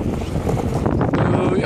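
Strong wind buffeting the microphone while longboarding outdoors, a steady loud rushing roar with gusty low-frequency rumble throughout.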